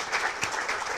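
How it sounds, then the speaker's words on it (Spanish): A live audience breaks into dense, steady applause at a talk event, the clapping close and even throughout with no voices on top. "Y por qué no quiero un aplauso más para Gerardo?"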